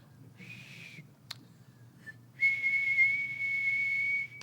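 A person whistles a steady high tone imitating the 2600 hertz telephone line-free signal, first a short try, then a brief blip, then a long sustained clear whistle held for about two seconds in a quiet room.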